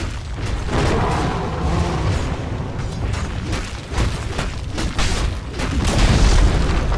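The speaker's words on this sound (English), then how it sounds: "Dire's middle tower has fallen." A Dota 2 tower collapses amid loud, dense battle noise: steady rumbling explosive crashes and debris fill the whole stretch, swelling toward the end.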